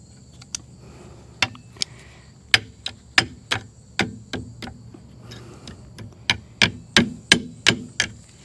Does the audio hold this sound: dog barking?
no